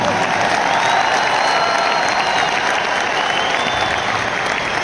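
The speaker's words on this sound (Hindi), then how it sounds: "इस बात के लिए इतनी सी तालियां बहुत कम मानी जाएगी।" An indoor audience applauds steadily and loudly throughout at a business anniversary event, a dense wash of many hands with no break.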